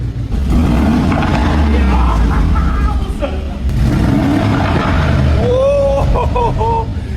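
A car engine revs hard nearby, loud surges of roaring throttle rising and falling over several seconds, with voices briefly audible alongside.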